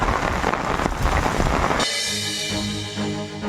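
Sudden rain in Gudiyattam, Vellore and Hosur, Tamil Nadu, pours as a loud, dense hiss for about two seconds before tonal music takes over.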